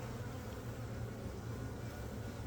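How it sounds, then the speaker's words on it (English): Honey bees buzzing at an opened hive during a queen and honey check, a dense continuous low hum close by, steady in loudness with no voices. "Bees are getting a little grumpy with me."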